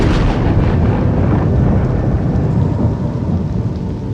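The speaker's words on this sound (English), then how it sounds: "when we implemented the thunder, like the lightning strike sounds" Rolling thunder from a lightning strike in the city-building game Cities: Skylines, a loud, continuous low rumble with rain hiss that fills the whole stretch and eases slightly toward the end.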